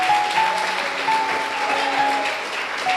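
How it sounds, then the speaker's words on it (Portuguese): Sustained applause from a large church congregation during a sermon, steady clapping filling the room, with a faint sustained tone running underneath. "Vamos aplaudir Jesus."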